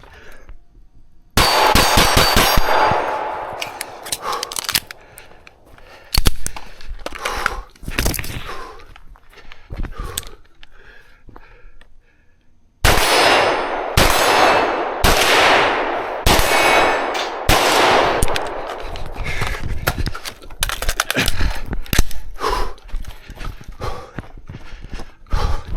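A Staccato XC pistol fires at an outdoor shooting range in rapid strings of sharp, loud cracks with ringing echoes, separated by quiet pauses between drills.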